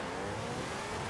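An electric car in Forza Horizon 5 pulls away from a standstill, a smooth, steady whine-like drone with a dense, even tone, sustained and fairly quiet with no talk.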